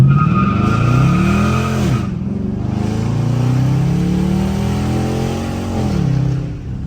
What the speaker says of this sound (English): You gonna start it up real fast. 5, 4, 3, 2, 1.